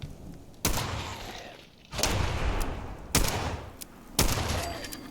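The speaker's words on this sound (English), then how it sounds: "Let's see if a couple of body shots will do it." Gunfire in Fallout 4: four loud, sharp shots ring out at roughly one-second intervals, each followed by a brief decaying echo, with no talk over them.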